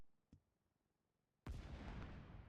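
A grenade explodes after a room breach in the tactical shooter Operation Smallville: a loud, sudden broadband blast that holds as a sustained roaring rumble, preceded by a faint click in near silence.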